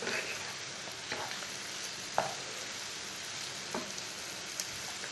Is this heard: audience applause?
no